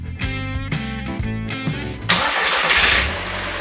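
A car engine cranks with several rhythmic starter turns after an oil change, then catches and fires up into a loud, steady running idle close by.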